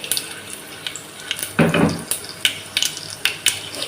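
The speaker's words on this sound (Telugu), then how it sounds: "ఇప్పుడు చిటపట్లు ఆడుతున్నాయండి" Sharp crackles and pops burst irregularly from tempering spices, including fenugreek seeds, in hot oil, with one louder sizzling flare midway and quieter spits around it.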